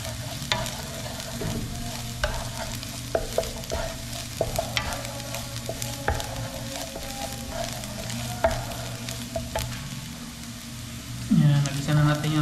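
Carrots and potatoes sautéing in cooking oil in a pan, a steady low sizzle with repeated sharp clicks of a utensil stirring, close and moderately loud, with a brief louder scrape near the end.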